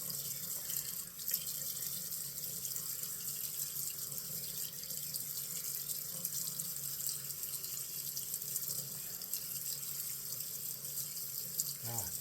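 A bathroom tap runs steadily to wet razor and alum shaving gear, a constant faint splashing flow that cuts off at the end, with a little low talk beneath it.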